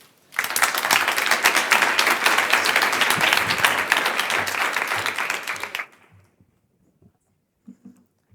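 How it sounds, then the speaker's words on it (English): Audience applause at a tech startup venture day event in Madrid, a dense burst of clapping from a crowd that swells quickly, holds steady for about five seconds, then cuts off, followed by near silence with a few faint knocks. "Please, ladies and gentlemen, help me give a warm applause to CityBits"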